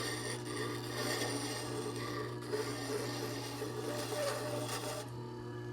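A scraper being sharpened on a JET JSSG-10 tool grinder gives a steady, continuous rasping grind with a constant motor hum underneath, close and unbroken.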